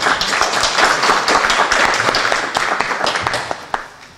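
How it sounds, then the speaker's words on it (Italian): An audience at a lecture claps, a dense room-filling patter of many hands with some sharper individual claps standing out, steady for a few seconds before thinning. "per cui un applauso"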